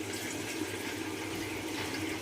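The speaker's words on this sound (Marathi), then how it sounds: "पाणी सोडणार आहेत अर्धा तांब्या" Water is poured in a steady continuous stream into a cooking pan for a country chicken dish, a soft even splashing rush with no talk.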